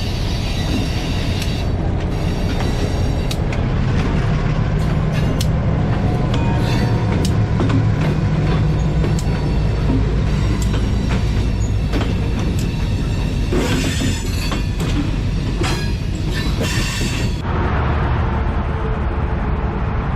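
A train rumbles past at close range, a steady heavy roar with metallic clatter and squealing wheels throughout.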